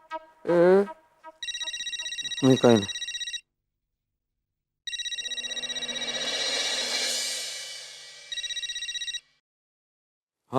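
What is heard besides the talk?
telephone ringing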